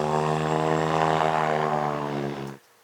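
Cessna airplane sound effect: a loud steady propeller engine drone with a strong buzzing harmonic tone, holding for a few seconds before cutting off abruptly.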